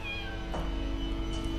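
A single cat meow in the video game Deponia, a short clear cry over a low steady background hum, with no talking.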